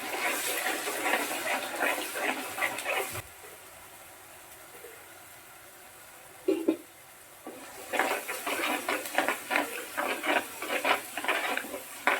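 Red snapper fish curry with ground onion paste gets stirred in a pot: wet scraping and sloshing strokes come in two busy stretches, separated by a quieter lull with a single clunk.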